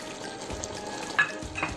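Chicken fries in a pan for biryani as soaked cashews are stirred in, giving a quiet steady sizzle with a couple of sharp scraping stirs near the end.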